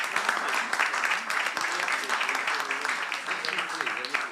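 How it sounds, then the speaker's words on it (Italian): Sustained audience applause at a literary prize ceremony honoring the finalists, a dense steady patter of many hands with voices mixed in throughout. "Un applauso ai nostri finalisti."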